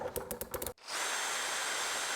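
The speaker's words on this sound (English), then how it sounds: "So I'm gonna use a drill." A hand coffee grinder clicks briefly, then a power drill driving it takes over with a steady, loud whirring hum that continues without a break.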